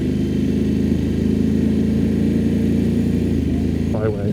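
A BMW F900 motorcycle engine idles and pulls away on an off-road byway in Surrey, a steady mid-pitched rumble that holds level before a brief rising rev at the end.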